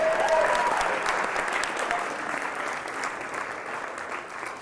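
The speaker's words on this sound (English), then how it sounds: "Everybody give Javi a round of applause." An audience claps for Javi in a steady, dense round of applause that fills the room and slowly tapers, with no talk over it.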